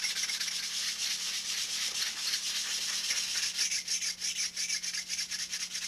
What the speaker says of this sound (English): I'll take my old sanding block, just try to true that up ever so little.